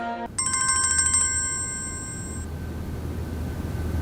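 A telephone rings with a rapid electronic trill, a burst of repeated tones that starts abruptly and then fades into a steady low hum, heard clearly with no talk.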